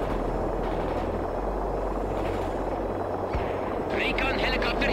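A recon helicopter in the World in Conflict video game, a constant roaring rotor drone with distant gunfire and explosions layered in, while radio-style voices talk over it.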